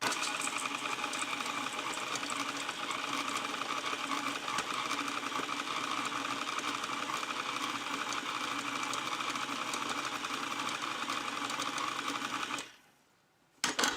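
Electric mixer stirring thick chocolate biscotti dough studded with almond slivers gives a steady, close mechanical whir that runs unbroken, then cuts off abruptly near the end before a brief clatter.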